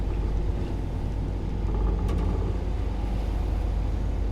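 Sailboat under engine power off the Breton coast between Roscoff and Ouessant in 10–12 knots of wind, a steady loud low motor rumble with water noise running unbroken throughout, no talking.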